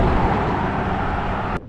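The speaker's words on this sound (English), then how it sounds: "Look at all the traffic I just found." Road traffic rushing past as a loud, steady broadband roar, close by, that cuts off abruptly at the end.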